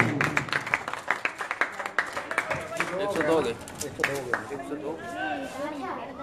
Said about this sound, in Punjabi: ਤਾੜੀ ਮਾਰ ਦਿਓ